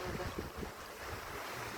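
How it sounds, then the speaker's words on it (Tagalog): Wind and sea waves wash against the seashore, a faint, steady, broadband rush with soft rumbling surges, no voices. "Ayan, dagat na yan."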